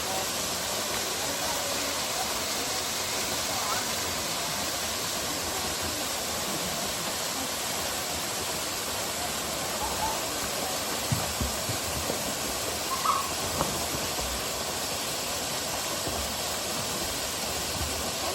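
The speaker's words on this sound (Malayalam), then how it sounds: "പ്രകൃതി രമണീയമായ ഒരു വെള്ളച്ചാട്ടമാണ് ഇത്" Vilangad waterfall near Vadakara in Kerala pours in a continuous, even rushing roar from close by, steady throughout with only a few faint knocks.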